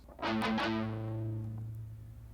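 A distorted electric guitar plays a few quick picked notes of a riff and then lets a chord ring out, the sustained buzzy tone fading slowly, close and solo.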